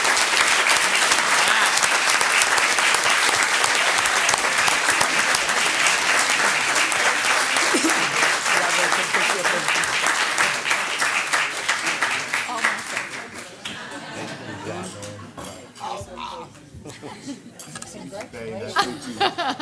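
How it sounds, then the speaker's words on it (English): A big round of applause fills a school board of trustees meeting, dense sustained clapping with some laughter and chatter, then fading after about twelve seconds into scattered claps and voices. "Y'all give a big round of applause for Jackson Canales."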